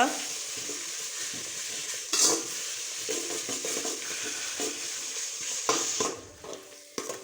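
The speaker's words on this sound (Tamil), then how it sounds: "இஞ்சி பூண்டு பேஸ்ட்டு சேர்த்துட்டு ஹை ஃப்ளேமில் வச்சு ஒரு முப்பது செகண்டு போல் பச்சை வாசனை போகிற வரைக்கும் வதக்கிக்கோங்க" Ginger garlic paste sautés on a high flame, giving a continuous close sizzle with scraping stir strokes and a few sharper clanks against the pan.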